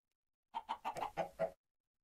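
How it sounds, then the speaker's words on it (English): A chicken in a modded survival video game gives a quick run of about six soft clucks, one burst lasting about a second, alone against silence. "Chickens."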